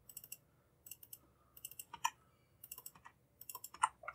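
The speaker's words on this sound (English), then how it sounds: "press G on your keyboard" Keys on a computer keyboard are pressed during modeling work in Autodesk Maya. Several faint, light clicks come in small irregular clusters over a quiet background, with no voice.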